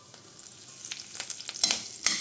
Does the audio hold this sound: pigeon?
no